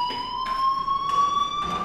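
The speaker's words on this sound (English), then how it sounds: "Hey, do you hear that fire alarm?" A fire alarm rings in the video game Life is Strange, a steady high electronic tone with pulsing bursts repeating about every half second, loud and continuous with no talk.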